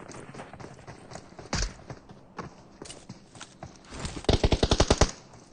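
Gunfire in a competitive video game scrim match: scattered single shots, then a fast burst of about eight loud, evenly spaced rounds near the end, with no voices over it.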